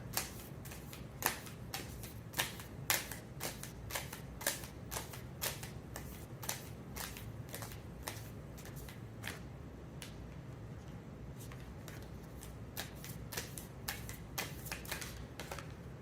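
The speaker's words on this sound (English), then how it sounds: "I'm going to draw a card from the Rumi Oracle." Cards from a Rumi oracle deck being handled and drawn, a dense run of soft, rapid clicks and snaps from shuffling that thins out toward the end, close and fairly quiet with no talking.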